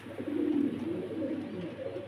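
Pigeons cooing close by, a soft, low, throaty rolling coo that swells and lingers for a couple of seconds.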